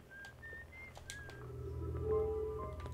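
Faint whistled notes from a character in the video game Outer Wilds, a few short rising tones early on over a low ambient drone, followed by a steadier sustained tone.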